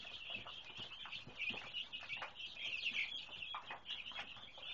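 A flock of about fifty young meat chickens peep and cluck continuously at close range, a busy overlapping chorus of high chirps with soft low rustling beneath.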